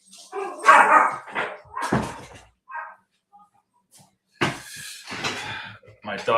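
Several pet dogs bark excitedly indoors at home in loud, close bursts, with yips between them, while people talk over and around them.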